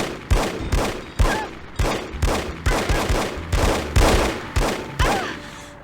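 Gunfire in The Operative: No One Lives Forever, a rapid run of about a dozen loud, evenly spaced shots with a sharp crack and short decay, close and with no voices.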